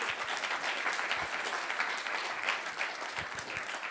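Audience applause at a pre-seed startup summit, a dense, steady wash of many hands clapping that holds at an even level throughout.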